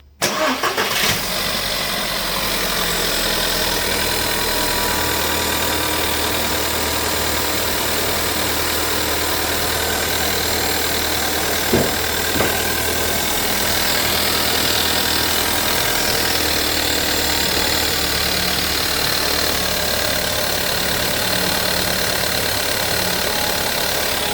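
A cold 1.4 turbo petrol engine in a Volkswagen Golf 6 idles steadily and loudly throughout, with a rough, even mechanical rumble and a brief knock partway through.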